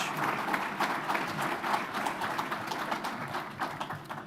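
Crowd at an electric cooperative's annual meeting gives a steady round of applause, dense and even throughout with a few sharper claps, no voices on top.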